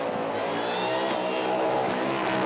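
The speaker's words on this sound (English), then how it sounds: "That was a big burnout." A car doing a big burnout at a Red CentreNATS burnout competition in Australia, with a hard-revving engine and screeching, skidding tyres making one loud, continuous, dense roar throughout.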